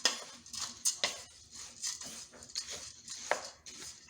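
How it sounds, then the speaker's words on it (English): Homemade granola ingredients stirred in a bowl, giving a series of light scraping and clinking strokes at an irregular rhythm, close and fairly quiet, with no talking. "Now I'm going to give this a good mix."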